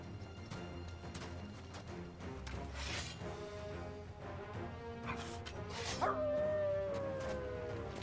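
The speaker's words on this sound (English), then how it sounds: "Oh god, the dog." Dog sounds in the video game Final Fantasy XVI, with barks and yips amid game music and effects, followed by a rising whine or howl near the end, moderately loud and close.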